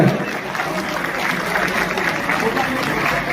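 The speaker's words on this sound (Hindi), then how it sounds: "एक बार सभी से गुजारिश करता हूं जोरदार तालियों से इनका स्वागत किया जाए" Dense, continuous clapping at a Haryana Congress political gathering welcomes arriving guests, loud and close throughout with crowd murmur blended in.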